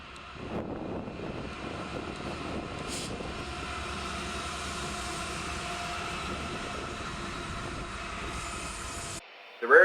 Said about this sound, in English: Here's NS-20K with NS-4543 leading and NS-8114, the original Norfolk Southern Heritage Unit